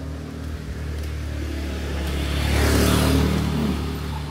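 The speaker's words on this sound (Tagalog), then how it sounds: "Maganda siya, kaso lang traffic. Ang daming motorbike." Busy street traffic thick with motorbikes, a continuous engine rumble that swells as a vehicle revs and passes close by around the middle, then eases back into the background drone.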